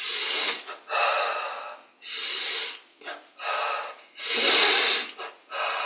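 Deep, slow breaths during a yoga session: long broadband inhales and exhales alternating in a steady rhythm, close and fairly loud, with no talking.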